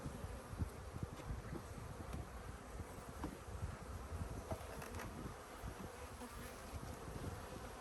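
Honey bees buzz in a dense, continuous drone during a hive inspection, with faint rustling and occasional wind noise mixed in.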